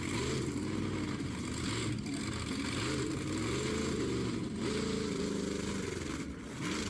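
A monster truck engine at the Sussex Fair struggles and fails to pull properly, a loud, continuous rough drone with wavering pitch that rises and sags throughout, heard up close with no talk over it.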